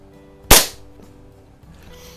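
One sharp, close crack from a Walther LGR air rifle fired during slow-fire sporting rifle league practice, decaying quickly into quiet room tone.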